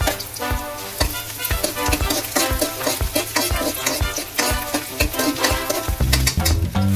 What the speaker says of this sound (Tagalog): Nagpainit na ako ng mantika sa kawali. Iginisa ko na ang luya.